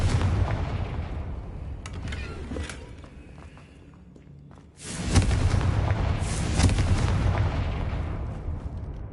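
Confringo fire-spell explosions in Hogwarts Legacy: bursts of booming blasts, a quieter lull in the middle, then a loud heavy eruption of rumbling explosions with crackling hits continuing to the end.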